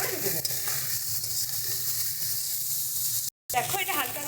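Kochur loti (taro stolons) frying in oil with turmeric and salt, a steady close crackling sizzle with stirring scrapes throughout and a brief dropout near the end.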